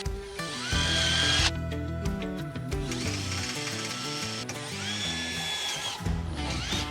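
A power drill bores into a screw hole to widen it during an RV security system install. It whines up and down in loud, steady bursts with ratcheting changes in pitch, and no one speaks.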